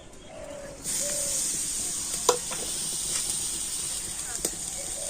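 Grated coconut cooks in a hot wok for a sweet potato pitha filling, giving a steady, close sizzling hiss that holds from just after the start to the end, with a voice talking faintly underneath.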